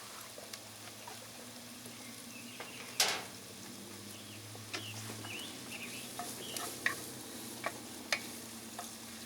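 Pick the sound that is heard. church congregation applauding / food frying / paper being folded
food frying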